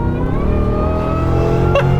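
A supercharged Lincoln Town Car luxury sedan with automatic transmission revs hard under acceleration, a loud, steady engine drone with rising harmonics filling two seconds, heard from inside the cabin.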